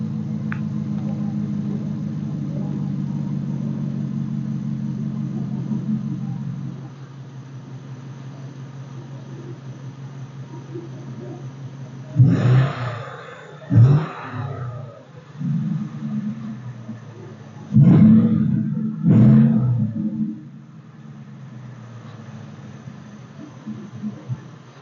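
A Ford F150 idles with a universal exhaust cutout. The louder open-exhaust drone drops to a softer hum partway through, and a few sharp bursts and surges of engine noise follow later.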